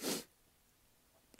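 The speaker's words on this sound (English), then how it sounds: "And I just recently sneezed." A single short, sharp sneeze right at the start, close and loud, followed by quiet room tone and a faint breath.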